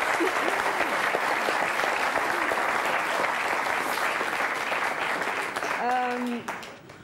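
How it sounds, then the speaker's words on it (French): Sustained applause from a television studio audience fills the room, steady and loud, fading near the end as a voice cuts in. "On peut l'applaudir, oui."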